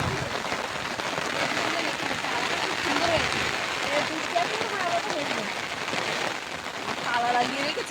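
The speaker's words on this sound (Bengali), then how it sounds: "বৃষ্টি হচ্ছে ঝমঝম করে।" Heavy rain pours down at night in a village, a dense, continuous hiss and patter on surfaces filling the background.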